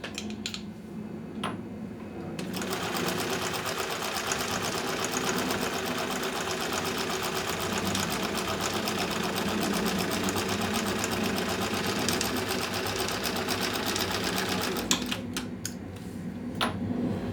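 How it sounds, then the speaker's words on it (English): A sewing machine stitching quilt seams for a mini mosaic quilt runs in a fast, steady mechanical chatter for about twelve seconds, with a few clicks before it starts and after it stops. "now I've stitched every other seam starting from this end and going to this end"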